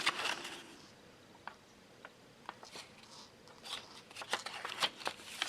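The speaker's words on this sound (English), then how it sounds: "the first score line you'll fold back on itself" Thin paper bag stock being folded back along a scored crease by hand, giving soft crinkling rustles and a few sharp crisp snaps, close and quiet, with no talking.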